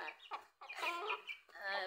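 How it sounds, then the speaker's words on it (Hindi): A rooster clucks in short, close bursts, a few quick calls with brief pauses between them, fairly quiet. "मुर्गा के देख ली"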